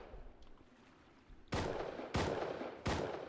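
Gunfire in the video game Rust: three loud, evenly spaced shots after a quiet lead-in, each a sharp crack followed by a brief decaying rumble, with no talking over them.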